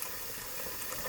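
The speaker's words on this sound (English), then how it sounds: "as the sink is filling up" A kitchen sink fills with water while cured beef soaks, making a steady, broad rushing and splashing with no breaks and no talk.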